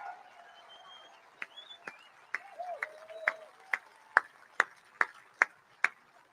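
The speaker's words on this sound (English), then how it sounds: "Let's give a round of applause to David" Rally crowd at a Trump event in Juneau, Wisconsin starting to applaud for a guest: sparse claps that grow into a steadier, louder rhythm, with faint whistles and voices behind.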